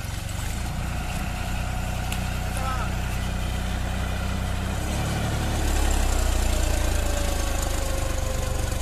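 A John Deere 5310 tractor engine runs steadily in four-wheel drive, a continuous low rumble that grows louder and heavier partway through as it pulls up a slope, with no talk over it.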